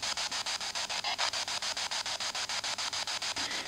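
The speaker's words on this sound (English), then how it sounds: "it's scanning between radio frequencies and trying to pick up on any white noise that it can find" A spirit box sweeps through radio frequencies in an old York inn, giving a steady hiss of white-noise static chopped into rapid, even pulses, loud and continuous with no voices.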